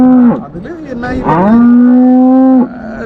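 A cow at a dairy farm of about a hundred cattle lets out a loud, close, sustained moo that rises, dips and holds steady before breaking off, heard alone.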